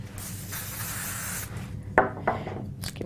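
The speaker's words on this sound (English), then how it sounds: "I think what I'll do is just quickly spray all of these" Aerosol spray misting over small cut craft card pieces in a steady hiss for about a second and a half, followed by a few light taps and a short rustle as the pieces are handled.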